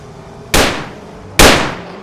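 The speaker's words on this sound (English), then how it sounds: "Bro, fire the gun." Two sharp gunshots in a shooter video game ring out close and loud, spaced about a second apart, each with a quick decaying tail; no talking.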